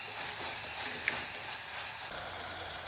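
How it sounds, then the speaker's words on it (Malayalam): Tomatoes sautéing in a pan, giving a steady close hiss and soft sizzle that runs unbroken throughout, with no talk over it. "തക്കാളി നല്ലോണം വഴറ്റി എടുക്കണം ഇതിൽ"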